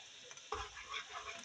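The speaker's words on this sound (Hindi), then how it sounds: "टमाटर को भूनना है जब तक उसका ऑयल ऊपर नहीं आ जाए" Tomato paste frying with ginger garlic paste in a pot while being stirred, a soft, close sizzle with small scraping stirs and bubbling at a low level.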